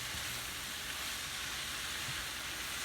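Vegetables sizzle steadily in a pan as flour is sprinkled over them and stirred in for a roux, a constant soft frying hiss throughout, with no voices.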